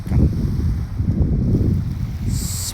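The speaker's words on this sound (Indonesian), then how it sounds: "Suara gelombang laut yang terus-menerus" Ocean waves wash in a continuous low roar mixed with strong wind noise. The sound is loud and close, with no voices.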